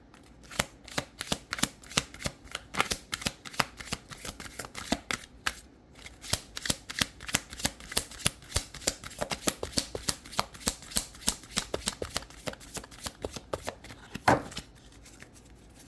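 Tarot cards shuffled by hand in quick, crisp riffling flicks and taps, a close, fairly quiet run of irregular clicks with one brief pause, no talking.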